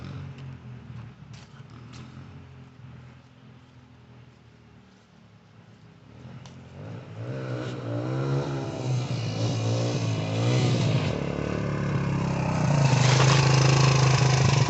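A used Suzuki DR-Z125 motorcycle engine starts out quiet and idling, then grows louder and climbs into revving, ending in a strong steady drone close by.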